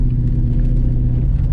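LS1-powered Holden VN Commodore launching at a drag strip, a loud, close, deep engine rumble roaring steadily through the short burst.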